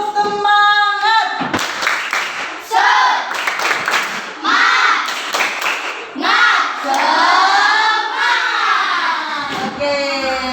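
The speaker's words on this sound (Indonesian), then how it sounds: "Tepuk semangat." A group of children in an Indonesian classroom performs a rhythmic spirit clap, with sharp bursts of hand clapping mixed with loud chanting voices. The pattern is close, energetic and repeated in quick groups.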